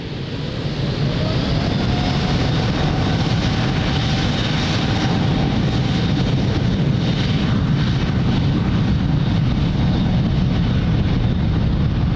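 A heavy airliner takes off at Lisbon Airport on runway 02, its jet engines producing a loud, steady, broadband roar that holds constant from start to finish with no voices.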